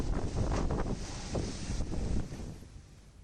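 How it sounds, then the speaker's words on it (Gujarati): Strong wind gusts from an unseasonal storm with heavy rain in Dang district, Gujarat, buffet the microphone with a rough, roaring rush that swells and eases, then settles slightly quieter. "ધોધમાર વરસાદ અને ભારે પવન ફૂંકાવાના કારણે"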